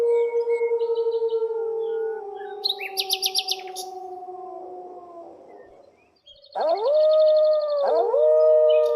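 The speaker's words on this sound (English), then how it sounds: "Wolf." A wolf gives long, sliding howls that slowly fall in pitch. A short break follows, then rising howls with bird-like chirps in the background, all clear and fairly loud.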